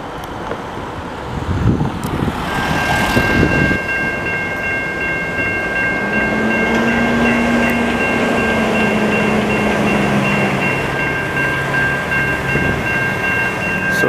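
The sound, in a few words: VIA Rail passenger train passing in Montreal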